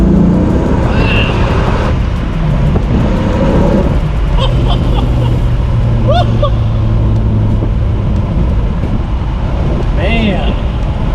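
A 1994 Dodge Viper accelerating hard on a rain-soaked road, its engine a steady, loud drone that rises through the gears, with tire hiss and a driver talking over it.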